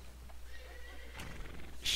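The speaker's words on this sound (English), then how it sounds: "I'm calling my horse" A horse in the video game Red Dead Online whinnies after being called, a short neigh with faint hoof clip-clops over a steady low hum.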